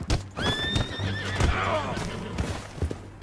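A horse in Red Dead Redemption 2 lets out a loud, wavering whinny over clip-clopping hooves, with a faint voice in the background.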